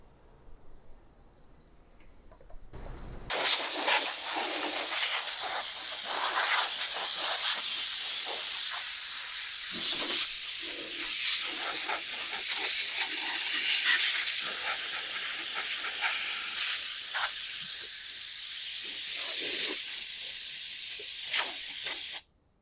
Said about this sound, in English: I'm going to blow out the inside, I'm going to blow out the radiator, and I'm going to blow out the air filter.